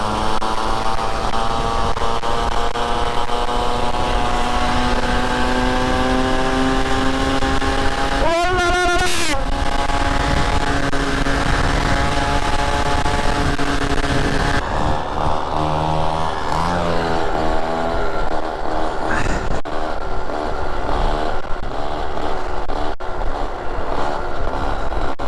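Peugeot 103 MVL moped riding in traffic, a loud close two-stroke engine droning with rising and falling revs as it accelerates to overtake, with wind noise and some passing road sounds.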